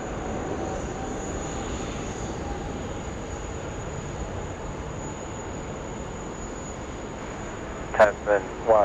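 Boeing 787 airliner at Sydney Airport departing on runway 16 right, a steady broad jet roar holding at a distance throughout, with a tonal whine on top and a few brief louder bursts near the end.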